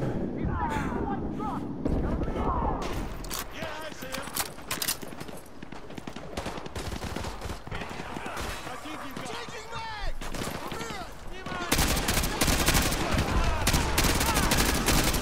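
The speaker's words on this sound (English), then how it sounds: "Clearly I'm getting shot from somewhere that's not in front of me." Dense bursts of automatic gunfire and scattered shots crackle throughout a Call of Duty Modern Warfare 2 Remastered battle, with distant explosions and radio chatter mixed in, and the firing grows louder near the end.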